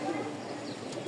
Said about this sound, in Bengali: কবুতর দেখাই মাশাআল্লাহ।